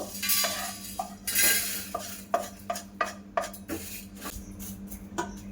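Homemade Maggi spice mix is scraped out of a pan onto a plate, giving a series of close metallic scrapes and clinks of a spoon against cookware in uneven strokes, with no talking.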